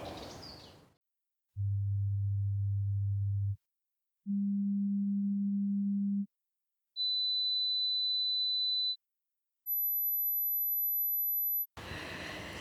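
Four pure electronic tones sound one after another, each about two seconds long with silence between, rising from a deep low hum to a thin, very high whistle.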